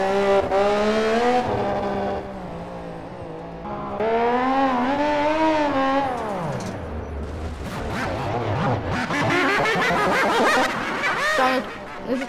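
Race car engine from the Project CARS racing game, rising and falling in pitch through gear changes and a long sweeping whine, loud and continuous, with a man chuckling over it.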